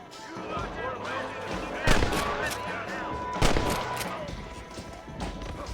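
Gunfire from the Western video game Red Dead, with sharp shots around two and three and a half seconds standing out over constant game audio and music, close and fairly loud.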